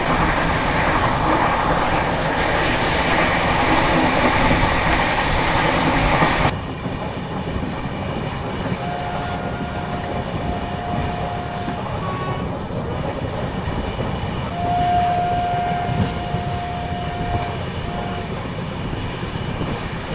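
A Tamil Nadu Superfast Express running at speed between New Delhi and Chennai, heard from on board as a steady loud rumble of wheels on rail. The roar drops slightly partway through, and faint whistle-like tones appear later.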